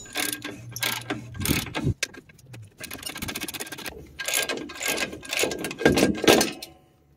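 An 18mm ratcheting wrench works the strut nuts on a GMC Canyon/Chevy Colorado during a lowering kit install, giving bursts of quick metallic clicking and ratchet pawl chatter with brief pauses, close and moderately loud.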